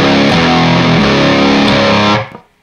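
Overdriven electric guitar plays a riff slowly in a lesson: open strings and fretted notes ring loud and steady, then cut off and fade into silence at the end.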